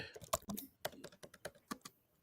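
Quick, uneven keystrokes tapped out on a computer keyboard, about a dozen sharp clicks in a short burst, close and fairly quiet with no talking.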